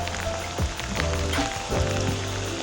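Steady rain pattering on a golf course pond and the surrounding ground on a nasty day, a dense continuous hiss with occasional heavier drops, close and fairly loud.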